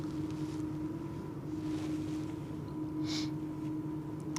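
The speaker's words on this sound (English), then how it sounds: "I think the dredge is revving its engine. I can hear it." A dredger revs its engine on the Westerschelde waterway in the Netherlands, a steady low drone with a humming tone, heard from a distance under strong wind noise.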